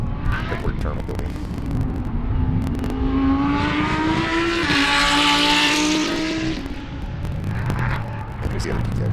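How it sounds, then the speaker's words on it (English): A GTX-class race car runs at Sebring near the airport terminal, its engine note rising and sustained as it sweeps past, loud and steady over several seconds with a tonal whine and broadband roar, then easing. "And there's the other GTX car."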